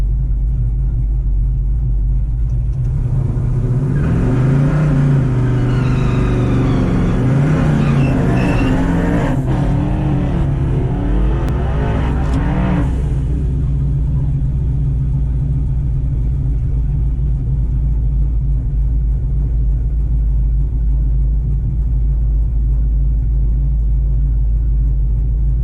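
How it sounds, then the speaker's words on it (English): Chevy Nova engine revving at a test-and-tune drag racing event while racing a Mustang, a loud rumbling roar that builds over the first half and then drops to a steady low idle-like drone. "Racing a Mustang."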